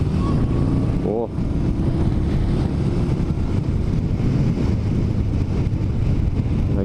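A Yamaha Star Bolt motorcycle pulls away with a jerky, fast clutch release, its engine a loud, continuous low roar buffeted by heavy wind noise as it rides off.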